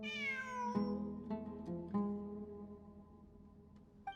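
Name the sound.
cat meowing in video game Genshin Impact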